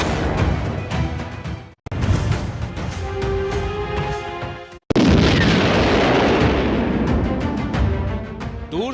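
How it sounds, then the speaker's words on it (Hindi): Booms and blasts from Russian drone bombing at a Ukrainian army base, heavy and continuous with loud broadband bursts, brief gaps, then a sustained roaring rumble of explosions. "दूर से धुएं के साथ धमाके की आवाज सुनाई देती है।"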